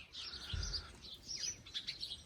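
Sparrows chirp in a garden plot, a quiet scatter of short high tweets repeating on and off, fairly faint and with no talking.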